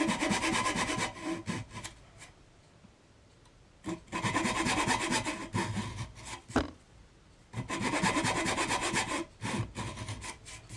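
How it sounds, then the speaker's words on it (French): A fine-tooth hand saw cuts notches into wood, giving bursts of steady rasping strokes separated by short pauses, close and clear with no talk. "Pour mes découpes ici, j'ai pris une lame plutôt de dents fines, et je viens faire les entailles le long de mon tracé"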